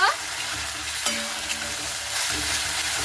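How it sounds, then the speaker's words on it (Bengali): Masala with turmeric and Kashmiri chili powder frying in a pan, a loud, dense, steady sizzle with a few soft stirring scrapes at about one and one-and-a-half seconds. "মশলাটাকে আমি খুব ভালো মতো করে কিন্তু কষিয়ে নেব"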